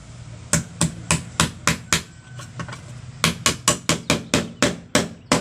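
Sharp, evenly spaced hammer blows drive a nail during a household electrical lighting installation, about a dozen close, loud strikes in two runs separated by a short pause.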